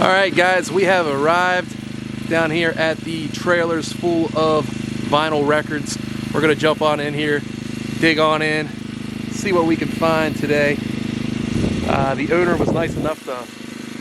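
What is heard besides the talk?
portable generator running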